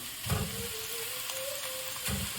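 Pork mince browns in a pot with a low, soft sizzle and occasional scraping stirs, fairly quiet and close, no talking.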